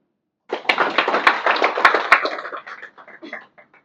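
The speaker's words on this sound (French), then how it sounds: "je vous invite tous à les applaudir" Applause at a Rotaract club handover ceremony in Moroni, a burst of clapping that starts suddenly, holds steady, then thins into a few scattered claps before fading out.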